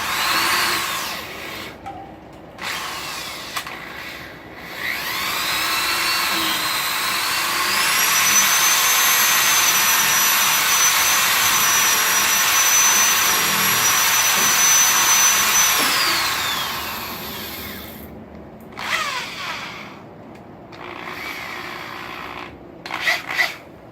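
A power drill boring a pilot hole into a post for a hand-forged drive hook, a loud close whine that ramps up, holds steady for about ten seconds, then winds down, surrounded by brief handling knocks.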